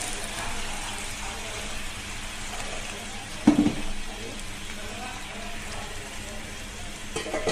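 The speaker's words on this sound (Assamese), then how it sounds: "পিঁয়াজটো অকণমান পানী দিব লাগিব, ডাঠ হৈ আছে।" Onions frying in a pan for an Assamese fish curry give a steady, close sizzle that runs throughout, with a brief louder burst of stirring midway and a voice speaking faintly at times.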